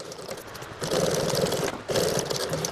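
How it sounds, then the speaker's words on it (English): A sewing machine stitches chair upholstery, its motor whirring in two steady, fairly loud runs separated by a short pause, with no talking. "I'm gonna let you guys watch me sew this."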